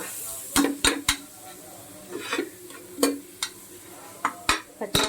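Utensil scraping and tapping against a pan as carrots are stirred and sautéed for carrot rice, a series of sharp clinks and scrapes in irregular bursts over a faint sizzle.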